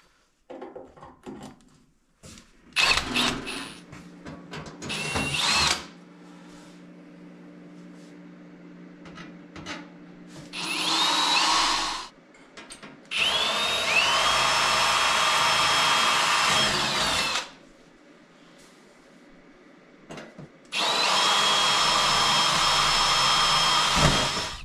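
A power driver runs sheet metal screws into a wood stove chimney pipe in several separate whirring bursts of a few seconds each, close by, with clattering handling sounds between them.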